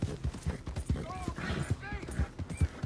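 Horse hooves beat out a quick, steady galloping rhythm in the video game Red Dead Redemption 2, mid-loud and continuous, with faint tonal game sounds layered over the hoofbeats.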